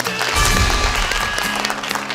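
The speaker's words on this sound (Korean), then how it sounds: "탈락한 분이엘 여고에게 위로의 박수 부탁드립니다" Studio audience at a televised high-school quiz show gives consolation applause, brisk clapping with low rumble and a thin sustained tone behind it, fading slightly toward the end.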